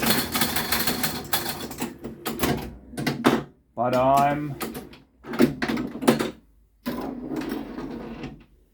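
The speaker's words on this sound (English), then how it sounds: "10 times high speed knocking" A 1963 Williams Jumpin' Jack pinball machine fires its replay knocker in rapid bursts of sharp, mechanical clacks, repeated in several quick clusters while a person talks in between.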